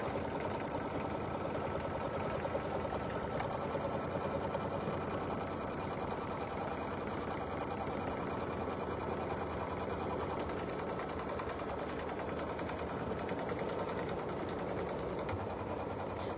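An embroidery sewing machine runs a steady, continuous stitching hum at even loudness throughout, close and mechanical, with no talk over it.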